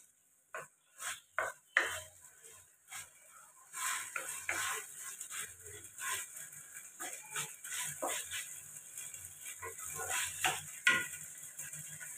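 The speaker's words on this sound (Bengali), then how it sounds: "একটু নেড়ে নিই অল্প করে।" A spoon stirs soaked, pan-fried lentils in a pot for khichdi, giving irregular scraping and clinking knocks against the metal, close and fairly quiet, with softer rustling between strokes.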